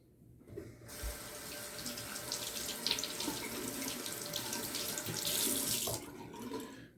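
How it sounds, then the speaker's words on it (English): Tap water runs steadily over a razor honing stone in a sink, a continuous close hiss and splash that starts abruptly, swells slightly, then cuts off. "Gonna rinse off the stone."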